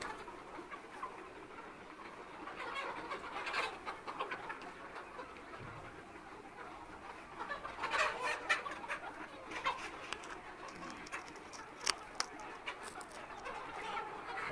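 Hybrid-breed meat chickens in a neighbouring room cluck and murmur faintly and intermittently against a steady hum of background noise, with a few sharper peeps breaking through.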